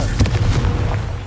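A Confringo fire spell blasts off in Hogwarts Legacy, one sharp booming burst near the start followed by a rumbling, crackling tail that keeps the sound dense and loud throughout.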